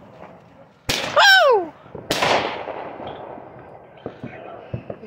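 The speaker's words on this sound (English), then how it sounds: "How you're doing these fireworks" Fourth of July fireworks: a sharp launch bang with a rising whistle, then a second loud burst trailing into crackle and smaller pops, with a person whooping and others talking nearby.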